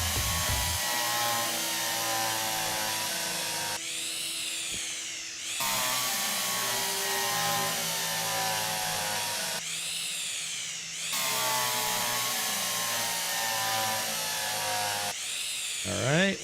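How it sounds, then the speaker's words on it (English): Power drill bores holes in repeated runs, a steady high whine that holds for several seconds, then drops as the bit slows and rises again when the motor spins back up, up close and loud. "let's get the drill"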